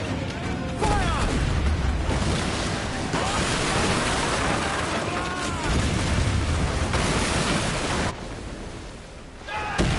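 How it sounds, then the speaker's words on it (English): Heavy rumbling booms of a ship's cannon broadside roll across open sea in Assassin's Creed Black Flag, several blasts merging into a long noisy roar with shouting voices over the battle. "We'll give a good broadside!"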